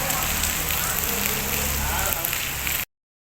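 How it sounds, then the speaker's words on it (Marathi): Heavy rain pours down outside a mall as a dense, loud, steady wash of noise that stays constant before cutting off abruptly near the end. "पाऊस जो जोरजोरात चालू झाला आहे, खूप वेळ चालू झाला आहे पाऊस"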